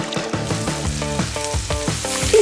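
A frying pan on a stove sizzles with a steady, loud hiss and crackle, broken by rhythmic bright tonal accents, and no voices are heard.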